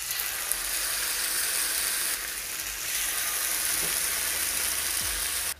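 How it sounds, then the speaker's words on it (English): Tofu grilling in an oiled griddle pan gives a steady, close, even sizzling hiss that runs throughout without a break, with no voices over it. "Whilst the tofu is grilling behind me"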